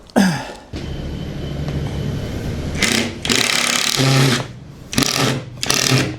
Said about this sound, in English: I'm going to put these screws in here